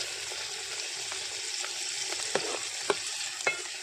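Continuous sizzling of tomatoes frying in hot tempering oil, with occasional spoon scrapes and taps against the pan, close and steady.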